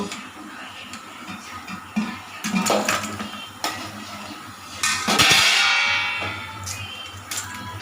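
Bengali potato chops being lifted out of hot frying oil, with metal spatula clinks and scrapes against the pan over a low bubbling sizzle, one louder hiss partway through.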